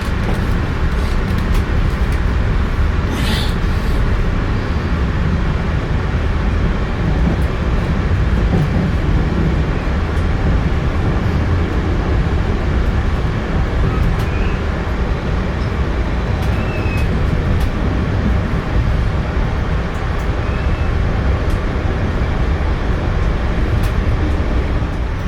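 A Metro-North Hudson Line commuter train pulls out of Harlem, heard from inside a carriage, a continuous low clatter and hum with occasional faint squeals and clicks.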